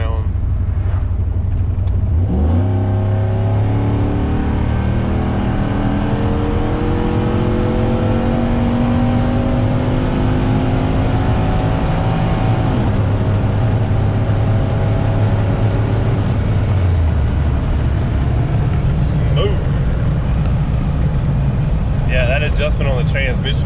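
A cammed GMC Sierra truck fitted with larger injectors and a Circle D stall converter idles, then accelerates hard on a test pull at a private testing ground. The loud, rising engine roar holds steady for the whole run, with no other sounds on top.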